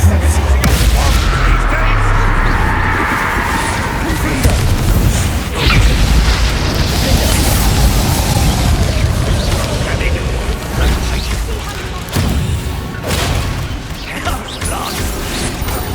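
Confringo blasting spell explosions in Hogwarts Legacy combat, a long stretch of rumbling booms, mechanical clatter and creaking debris, loud and sustained throughout, with voices talking over the action.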